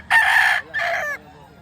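A rooster crows once, close and loud, a bright two-part call ending in a short tail, with faint low background noise.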